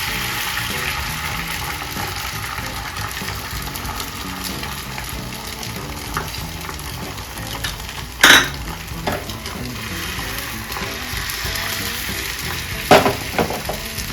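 Egg sizzling steadily in hot oil on an atta roti, a continuous close crackle broken by a couple of sharp utensil knocks, with no talking.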